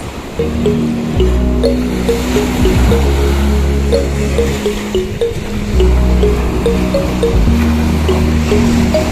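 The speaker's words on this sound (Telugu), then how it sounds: "అలలు చూడండి భయంకరంగా కొడతా ఉన్నాయి అలలు" Sea waves crash and surge onto a beach at dusk, a loud, continuous rushing roar with repeated swells, up close and with no voices over it.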